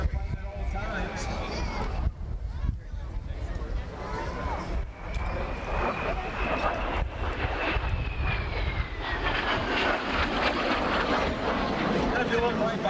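An aircraft without an inverted fuel system flying an arching inverted pass at the 1996 Valiant Air Command Air Show, a sustained engine drone whose pitch rises and falls as it passes, with an announcer talking over it.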